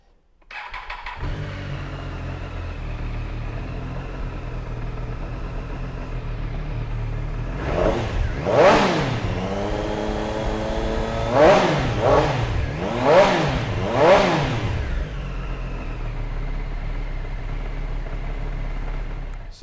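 A Triumph Street Triple 765 RS motorcycle starts with a short crank, settles into a steady close idle, then gets five sharp throttle blips rising and falling before returning to idle.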